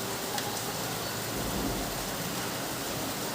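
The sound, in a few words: heavy rain with thunder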